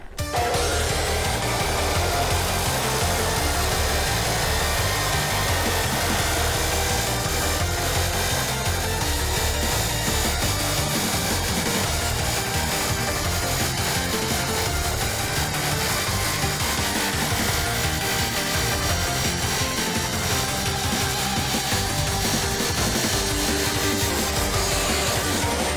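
An abrasive wheel saw grinds steadily through clamped metal in a metal shop, a loud, continuous harsh whine and rasp that holds from start to finish with no talk over it.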